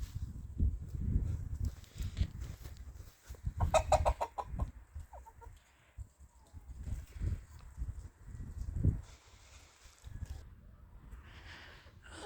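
A flock of Faverolles chickens clucks and murmurs in a yard, with repeated bursts of close, busy clucking, a louder squawk near the middle and quieter gaps between.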